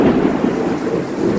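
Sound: big storm with thunder and rain

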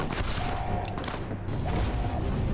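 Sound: gunfire in a video game set in the Mojave

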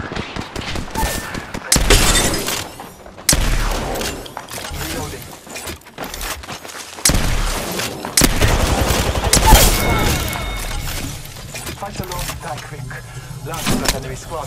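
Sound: gunfire in the video game Apex Legends

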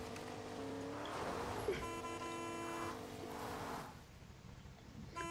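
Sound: car horn honking in video game Fortnite

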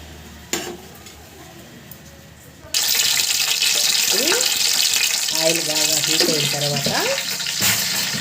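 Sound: ghee heating in a pan on the gas stove

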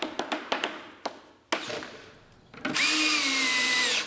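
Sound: power screwdriver driving screws into a wooden cabinet lid

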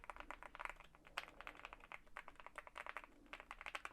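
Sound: mechanical keyboard typing

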